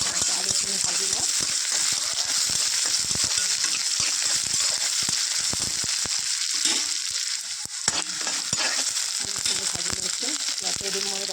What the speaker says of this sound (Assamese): আলুখিনি ভাজি লওঁ।